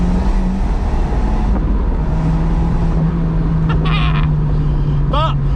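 Abarth 124 Spider with the roof down on a cold day, its engine and exhaust giving a steady low drone from inside the open cabin, with wind and road noise around it.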